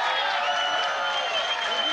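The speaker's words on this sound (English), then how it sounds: "Big round of applause for Fede Pace getting up." Crowd at a kickboxing fight applauding and cheering as a fighter, Fede Pace, gets back up, a steady dense wash of clapping and crowd noise throughout with no break.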